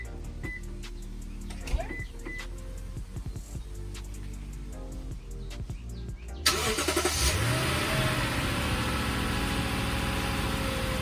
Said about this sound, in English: Let's get it remote started and then open the door and see if the engine switches off